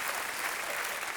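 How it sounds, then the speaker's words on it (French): An audience applauds a performer at a live show, a brief, full burst of many people clapping together that stays even and close throughout. "rien que pour ça, bah, on peut vous applaudir"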